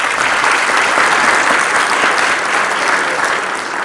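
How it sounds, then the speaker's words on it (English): An audience at a symposium gives a loud, dense round of applause, a continuous wash of many hands clapping at once without pause. "Please can you give them a round of applause?"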